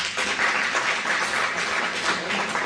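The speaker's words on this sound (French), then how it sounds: "ça mérite en tout cas qu'elles soient applaudies" An audience applauding at a conference on Comorian women, a dense, even wash of clapping that holds steady for a few seconds without pause.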